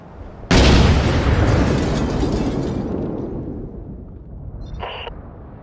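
A bomb blast in the Six Days in Fallujah video game erupts as a sudden, loud, broad boom that rumbles and slowly decays, followed by a brief, faint tonal sound near the end.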